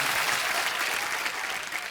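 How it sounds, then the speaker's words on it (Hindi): Loud, steady applause from a television comedy show studio audience fills the whole stretch with dense clapping and no talking over it. "जोरदार तालियां आ जाए यार"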